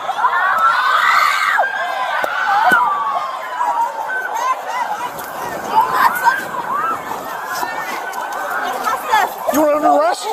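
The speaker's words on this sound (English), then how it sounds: "in the distance, shouts from another ongoing fight can be heard" Distant shouting from a separate fight rises out of a dense crowd during a police confrontation, blending with steady babble and nearer talking voices across the whole stretch.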